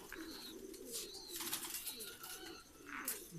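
Flying pigeons coo in a loft, soft repeated throaty calls overlapping with occasional chirps and wing rustles, close and continuous with no one talking.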